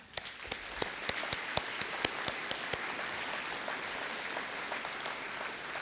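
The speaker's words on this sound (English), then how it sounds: "Can you give him a round of applause?" Scattered, distinct claps at a police academy graduation rise into sparse applause, individual hand claps popping out over a soft crowd wash, moderately distant.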